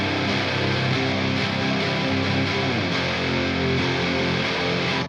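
Layered, heavily distorted electric guitars form a dense, loud, continuous wall of sound with heavy reverb, unbroken for several seconds with no voices.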